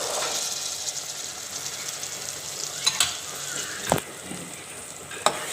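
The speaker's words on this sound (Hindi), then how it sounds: "अब हम लोगों ने इसको फ्राई करना है और साथ साथ इसमें मसाले ऐड करके जाना" Peas and tomatoes sizzle steadily in a pan for matar pulao, a continuous hiss of frying with a few sharp stirring knocks from a spoon.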